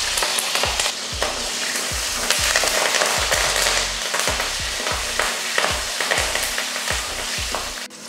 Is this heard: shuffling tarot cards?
no